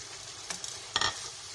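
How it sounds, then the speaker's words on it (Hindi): Garlic ginger paste and ground green chilli fry in hot oil, a soft steady sizzle broken by two brief scraping stirs of a spoon in the pan. "तेल में मैंने लहसुन अदरक का पेस्ट और हरी मिर्च जो पीसी थी वो डाल दी है। इसे भूनूंगी मैं।"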